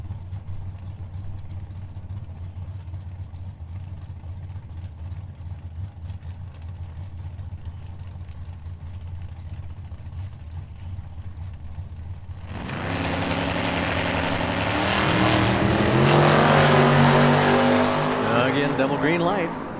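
Drag racing at Tucson Dragway: a Camaro and a Vega idle with a low rumble for about twelve seconds, then launch into a loud, rising engine roar with tire noise, nearby, as an announcer talks over it.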